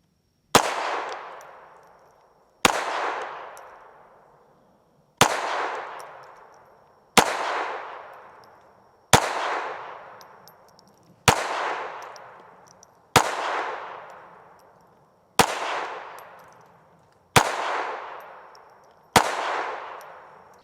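Retay RXP 22 pistol fires Remington 22 Golden rounds, ten sharp, loud shots spaced about two seconds apart, each with a short ringing decay, outdoors with no talk between them.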